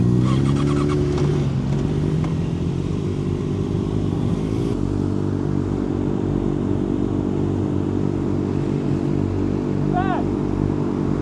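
Motorcycles including a Kawasaki ZX6R and a Honda CBR idling and rumbling nearby before heading out, a steady low engine drone with a light revving rise and faint clatter throughout.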